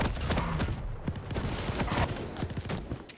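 Heavy machine gun fire in a fast competitive arena shooter match, a dense rapid stream of sharp shots running loud and close for the full stretch, with no talk over it.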